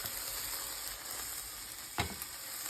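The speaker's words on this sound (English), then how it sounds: "So first thing I'm going to do is add my ham and my peppers to my skillet." Ham and peppers frying in butter in a skillet over medium heat, a steady close hiss and sizzle throughout with one brief knock or stir of the pan near the end.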